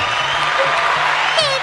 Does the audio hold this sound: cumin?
no